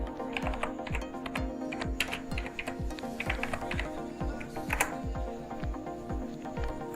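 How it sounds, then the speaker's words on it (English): Fingers type on a computer keyboard in a quick, uneven stream of close, crisp key clicks that run steadily throughout with no voices. "Only you have to do is just type here Google Admob."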